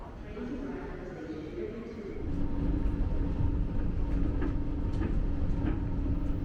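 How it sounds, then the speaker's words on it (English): Skylink airport train running between terminals at Dallas airport, a steady rolling rumble that grows louder partway through, with a few faint rattles on top. "So I continued on my way by first grabbing the Skylink to Terminal D."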